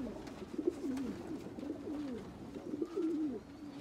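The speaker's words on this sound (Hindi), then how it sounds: "बहुत शानदार ये कबूतर है" Golden Kamagar pigeon cooing in a loft in Faisalabad, a series of soft, rolling low coos repeated close by, fairly quiet, with faint background noise and no talking.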